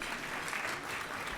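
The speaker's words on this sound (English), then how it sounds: "let's give them a round of applause." Brief, steady applause from an audience at a policy talk on India, Japan and the United States, a soft continuous patter of many hands with no voices.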